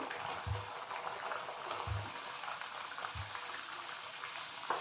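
Spinach puris deep-frying in hot oil, a soft, bubbling, seething fry close by, with a few low thumps as dough is moved in the oil.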